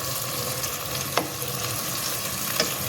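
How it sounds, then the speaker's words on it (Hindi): A masala of salt and ground red chili, for an okra bhindi sabzi, fries in a pan with a steady, close, dense sizzle and two faint stirring scrapes, with no talking. "ये इसको हम अच्छे से भून लेंगे, बिल्कुल मसाला हमारा रेडी हो जाए"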